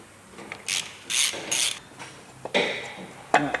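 A ratchet undoing 13mm bracket bolts on a Ford Mondeo Mk5 2-litre diesel engine, with several short bursts of close, loud clicking separated by pauses.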